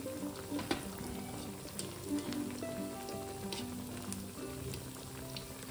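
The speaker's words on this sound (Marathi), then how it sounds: "आता आपण हे कमी गॅसवर तळून घ्यायचे" Sabudana vadas fry in hot oil over a low flame, giving a soft continuous sizzle with scattered pops and crackles, faint and close, with no talking.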